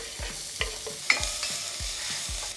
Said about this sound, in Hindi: और अब जाएगा इसमें प्याज जो हमने काटा था।